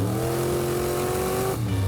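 A car engine revs steadily with a rising, strained tone, then drops briefly before surging again, loud and close, with no voices.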